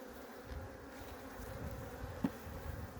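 A low, steady buzzing hum of many bees in a weak hive fills the space, faint and continuous, with one louder buzz passing briefly near the end.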